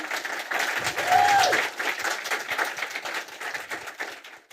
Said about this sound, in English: So a round of applause for the panel.